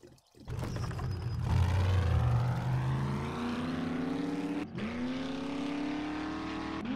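A modded 4x4 vehicle drives in 7 Days to Die, its engine revving and climbing in pitch, briefly dropping as gears shift, then rising again, steady and close throughout.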